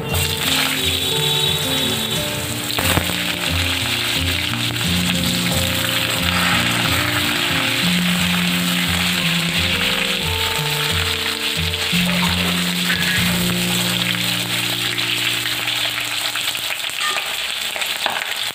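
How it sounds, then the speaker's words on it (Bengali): Potatoes and nigella seeds fry in hot oil, a loud continuous crackling sizzle that runs the whole stretch with a scrape or two of stirring, while music plays underneath. "তেলের মধ্যে দিয়ে দিচ্ছি কালো জিরে, তারপরে একটু আলুগুলো দিয়ে ভালো করে ভেজে নেবো।"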